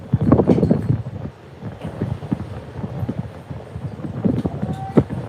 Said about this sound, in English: Wind continues to howl here at the old ballpark.